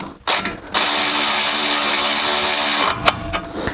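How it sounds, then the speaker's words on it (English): A power ratchet runs up the brake caliper bolts on a Mercedes C300 4matic, giving a loud steady mechanical whir of about two seconds between short clicks and clatter, close, with no voices. "Then you can go ahead and run them up with a tool or a socket or whatever."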